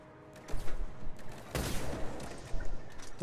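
A fast-firing gun in Mass Effect 3, loud overlapping shots in quick bursts with a heavy blast midway, dense and continuous over a background rumble.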